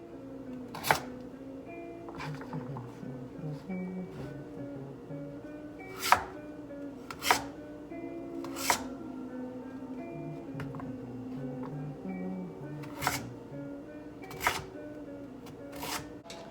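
Knife dicing sweet potatoes into small chunks on a cutting board, irregular sharp chops and taps spread across the stretch over a steady low background hum.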